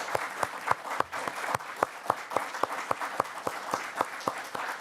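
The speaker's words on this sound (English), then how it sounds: "could we please have a round of applause for the candidates?" An audience at a candidate forum gives a round of applause, heard as fairly sparse, rhythmic individual claps in a modest room, steady throughout and moderately quiet.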